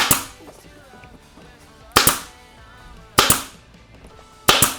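A staple gun fires four sharp, loud snaps at uneven spacing while a seat cover is fastened on a 2019 Yamaha YZ85 motorcycle, with quiet handling rustle between the shots.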